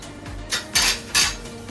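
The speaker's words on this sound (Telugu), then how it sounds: "మనం మగ్గించుకునే వరకు లిడ్ పెట్టి క్లోజ్ చేసుకోవాలి." Metal kitchenware clinks and clatters while cooking kadai paneer, with two or three louder clanks like a lid set down on a kadai, fairly close.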